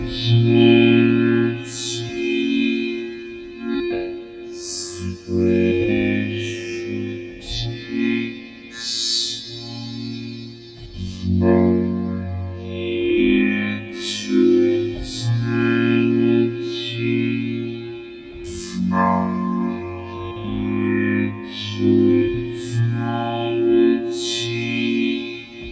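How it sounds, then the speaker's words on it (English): A spoken phrase repeats over and over in a loop, drenched in reverb and echo, layered into a dense, steady wash with a low droning hum underneath. "This kind of thing sounds better with a little bit of reverb"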